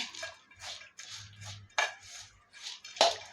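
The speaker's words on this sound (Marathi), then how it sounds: "मी प्रॉपर मिक्स करण्यासाठी असं एक पातेला घेतलेलं आहे" A spoon scrapes and clinks against a metal pot while bhel is mixed, giving a series of soft scraping strokes and a few sharper metallic taps in a quiet room.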